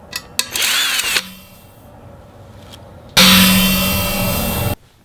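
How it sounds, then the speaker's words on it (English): A power drill bores into a vacuum-insulated steel tumbler, whining loudly up close in two bursts, the second longer and steadier, with a quiet pause between them. "Next, I tried drilling."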